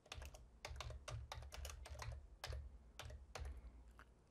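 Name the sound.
computer keyboard typing while renaming vises in software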